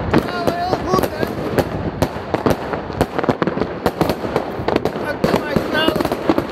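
Fireworks bang in dense, rapid bursts behind someone speaking Dutch at a New Year celebration in Lopik, with sharp cracks and popping crackle mixed through the talk.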